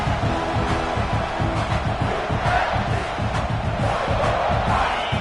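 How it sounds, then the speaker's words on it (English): A football stadium crowd roars at full throat, a dense, sustained wall of cheering and shouting that stays loud and steady throughout, with faint voices blended in. "This crowd, full throat, spreading the eardrums and letting them know it's going to be a long day."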